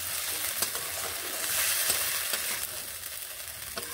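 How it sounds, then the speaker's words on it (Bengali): Spices and tomato sautéing in a pan: a dense, steady sizzle with occasional light scraping taps from stirring. "মশলা ও টমেটো ভালোভাবে এইভাবে কষিয়ে নেব।"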